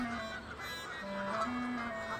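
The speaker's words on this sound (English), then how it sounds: "It's not easy to drive the geese away, though Gerard has certainly tried" Geese honk repeatedly, several nasal calls overlapping in close succession, moderately near with a soft outdoor background.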